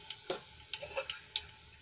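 A pinch of asafoetida drops into hot oil with popped mustard seeds and cumin in a kadai, giving a faint, soft sizzle broken by a few small crackling ticks and pops.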